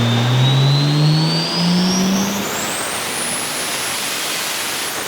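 Toyota MK4 Supra engine revving hard on a dyno pull, a loud continuous climbing whine and roar that rises steadily in pitch over five seconds with no talking.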